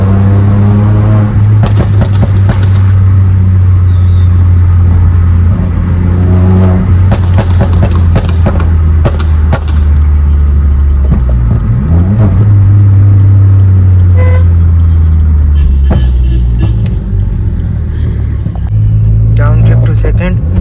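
Volkswagen Polo 1.0L TSI running a Venom Stage 2 full-system exhaust accelerates through the gears with a loud close engine roar, sharp pops and bangs, and a gear change, while people talk over it throughout.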